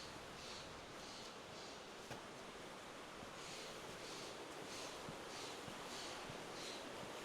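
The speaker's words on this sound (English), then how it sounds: "I just love hearing the rushing waters from a river or falls." River water rushes steadily near an inn in the Sierra Nevada gold rush town of Downieville, a constant broadband roar with no pauses and no talking.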